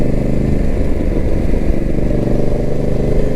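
A motorcycle engine running steadily loud and close while overtaking on a road, a continuous throbbing drone with no breaks.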